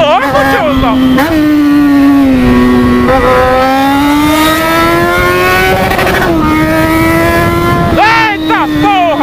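Yamaha XJ6 motorcycle engine in a video game revving loud and steady, its pitch climbing and dipping through gear changes across the whole stretch, with someone talking excitedly over it.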